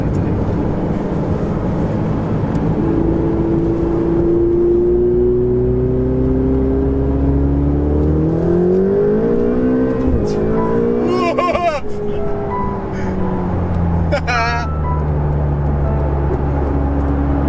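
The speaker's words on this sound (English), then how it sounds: "I'm driving a 488" A 2017 Ferrari 488 engine revs and accelerates from inside the cabin, loud and steady with pitch climbing through the gears and brief shifts, while occupants talk over it.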